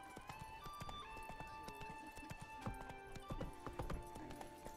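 Horse hooves clip-clop at a steady riding pace in The Witcher 3, a brisk, even rhythm under game music and ambience, moderately quiet.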